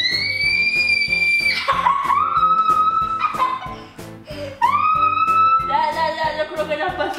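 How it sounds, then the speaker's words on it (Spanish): During a Twister game, a person screams loudly and shrilly in several long, wavering cries with short breaks, over rhythmic background music. "grita muy fuerte durante 10 segundos"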